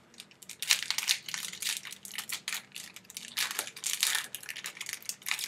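A Pokemon Immortal Powers booster pack's foil wrapper is torn open in a close series of sharp crinkling, tearing bursts that come and go irregularly, with no talk.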